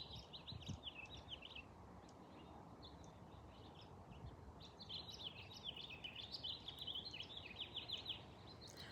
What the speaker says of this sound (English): give a moment of silence for the birds chirping